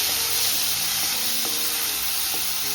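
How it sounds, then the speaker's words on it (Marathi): A paste of green chili, garlic and cumin sautés in hot oil, giving a steady, close, bright sizzle with a few soft stirring scrapes and no voices. "त्याचा परतून घेऊ मस्त पेस्ट तेलामध्ये."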